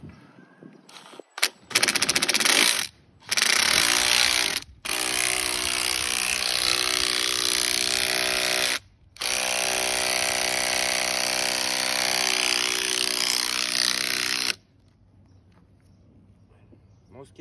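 A ratchet wrench with a 14 socket drives a bolt into a water-filled basketball hoop base, making loud, fast rattling clicks in long continuous bursts with short pauses, then falling quiet.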